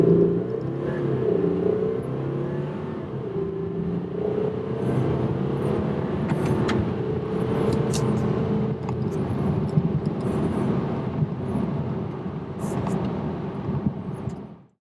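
2014 Audi A7 TDI diesel accelerating from 0 to 60 mph, a steady engine drone rising in pitch through the gears, moderately loud from inside the car, with speech over it and a faint rumble.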